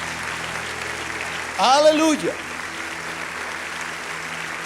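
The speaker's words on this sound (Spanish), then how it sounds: "salgan en medio de este aplauso fuerte." Church congregation applauding during a service, a broad steady wash of clapping throughout with a voice calling out briefly in the middle.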